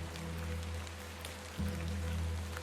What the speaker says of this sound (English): Terrible weather this evening, is it not?